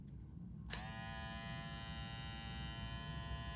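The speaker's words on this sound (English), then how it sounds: "I'm gonna show you guys how quiet the shaver is" A steady electric shaver hum at low speed with a bright buzzing whine that starts abruptly and runs continuously, close up, no voices.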